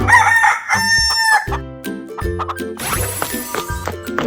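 A rooster in a 3D animal slide video game gives one loud, close cock-a-doodle-doo, followed by bouncy jingling game music and a shimmering chime.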